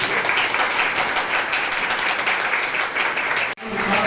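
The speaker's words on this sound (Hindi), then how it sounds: "आप ताली बजा रहे हैं" An audience at a de-addiction class and program claps steadily and densely for a few seconds. The applause cuts off abruptly, then briefly resumes.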